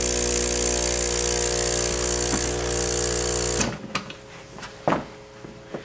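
A small Eco 2 aquarium-style air pump feeding an air stone hums loudly and steadily with a buzzing drone, then cuts out, leaving quiet handling knocks and bubbling taps.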